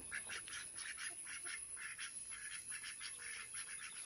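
Rapid bursts of duck quacking, a busy flock calling steadily at moderate distance over a constant hiss.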